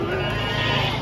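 A goat bleats in one sustained, wavering call, close and fairly loud, with no talking.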